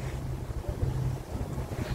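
Steady wind rushes across a sailboat at sea, blowing from behind with a low, buffeting roar and microphone wind noise that stays constant and fairly loud throughout, with no voices.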